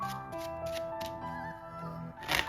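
Playing cards are shuffled by hand in several quick riffling bursts, close and crisp over soft background music.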